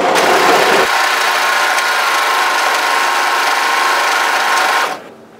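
An overlocker sewing the underarm seam of a relaxed-fit sweatshirt runs in a loud, steady high-speed whir close by, a brief change in pitch near the start, then the motor winds down to a stop at the end.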